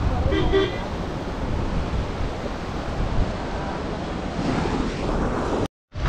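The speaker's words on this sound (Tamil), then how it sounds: "காற்று சும்மா பயங்கரமாக அடிச்சுட்டு இருக்குதுங்க" Strong wind buffets the microphone in a steady roar over crashing surf by the sea at Dhanushkodi, loud and close, with a brief dropout near the end.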